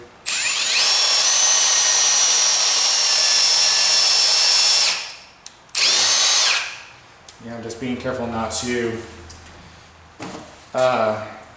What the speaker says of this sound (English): I got a number 8 drill on here